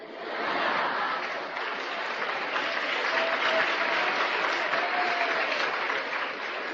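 Lecture audience applauding, a steady wash of many hands clapping at moderate level throughout, with no voice over it.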